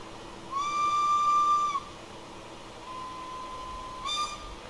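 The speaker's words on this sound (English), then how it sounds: "Control B will give you the different tunes for the secondary whistle." In Train Simulator Classic, an LSWR T3 4-4-0 steam locomotive whistle blows one long clear tone, followed by a fainter lower secondary whistle and a brief final toot over a low rumble.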